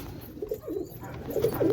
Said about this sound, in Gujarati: અત્યારે આપણે કબૂતર આવી ગયા